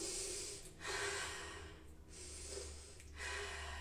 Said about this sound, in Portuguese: Respira junto comigo.